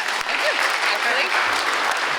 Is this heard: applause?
yes